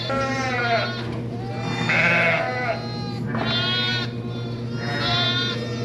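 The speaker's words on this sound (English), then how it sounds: "Both ewes are licking all the lambs off." Two ewes and their newborn lambs bleat repeatedly in a barn, several overlapping cries close by, some higher and thinner, over a steady low hum.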